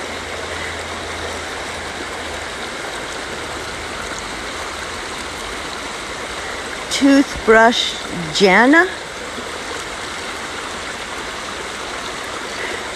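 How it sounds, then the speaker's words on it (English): Morgan Brook, a mountain-fed brook in Connecticut flowing toward the Farmington River, rushes in a steady, even wash throughout, with a short burst of a person talking partway through. "It's a mountain-fed brook that flows in to the Farmington River and then into the Atlantic Ocean."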